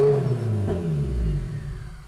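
A Mazda Miata engine running with an open downpipe idles roughly and loudly, then sputters and dies as it stalls, the rumble fading out.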